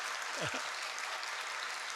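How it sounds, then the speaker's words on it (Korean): A church congregation at a worship service featuring a cellist applauds to call for an encore. Steady, moderately faint clapping runs throughout the clip, with a brief voice near the start. "우리 앵콜 하시려면 더 큰 박수로 초청하겠습니다."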